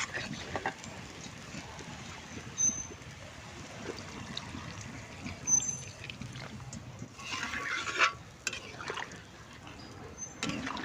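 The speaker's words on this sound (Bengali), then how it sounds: "একটু জল দিয়ে নেব।" Hot water poured into a pan of frying shrimp and taro curry, a soft continuous pouring and bubbling wash with faint trickles and occasional clinks, fairly quiet and close.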